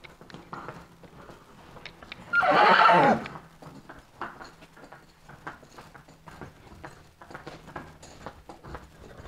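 A young colt gives one loud, close whinny during early training, followed by scattered clip-clop of hooves and soft shuffling as he is walked toward the barn.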